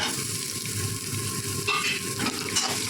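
Chopped onion dropped into a hot tadka of golden-fried garlic for a pumpkin and curd sabzi, giving a steady, close, even sizzle with a few brief stirring scrapes.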